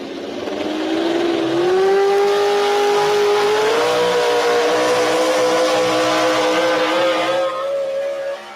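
Chevrolet pulling truck running a Hemi, driven by Rick Johnson of Powell, Wyoming, roaring loud and close at the line, its engine pitch climbing steadily as it revs and then holding high and strained.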